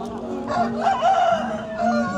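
A fighting cock rooster crows close by at a livestock market in Chiang Mai, one clear drawn-out call with some clucking over a steady murmur of market noise.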